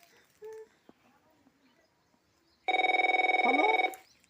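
A telephone rings loudly and close, a steady pulsing electronic trill lasting over a second, after a few faint scattered noises and a brief tone in an otherwise quiet room.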